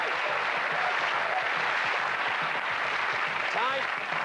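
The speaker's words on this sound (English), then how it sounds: "Give him a cheer." A studio audience on a game show claps and cheers in a dense, sustained wash of applause that stays loud and even throughout.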